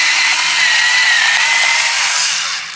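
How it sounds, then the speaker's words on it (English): Small automatic electric salt and pepper grinders running in a home kitchen, a continuous high whirring motor buzz with a grinding edge, close and loud, fading slightly at the end, no talk. "These are my cool little automatic salt and pepper grinders."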